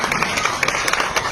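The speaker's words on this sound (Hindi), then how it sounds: "बहुत बहुत तालियों के साथ स्वागत कीजिए पुनः।" Brief burst of crowd clapping welcoming the launch of community radio station Irada 88.4 in Kurukshetra, a dense patter of many hands with sharp claps throughout, fairly loud and close.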